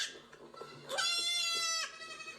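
A goat bleats once in a long, wavering cry, fairly near, over a low background hum.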